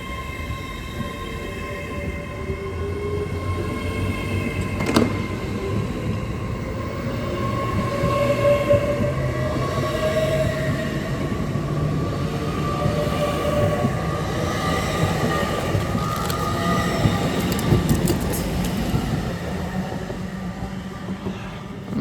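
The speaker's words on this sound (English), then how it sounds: "Departing now with the LNER service off to London King's Cross" An LNER passenger train, unit 801-217, pulls out of Durham station bound for London King's Cross, its motors rising in pitch as it accelerates, with wheel squeal and rail clatter filling the air alongside the platform.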